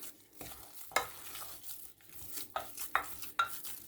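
Eggs being beaten into profiterole choux dough with a utensil in a bowl, giving soft wet squelches and a few sharp clicks against the side in an uneven rhythm, close and quiet.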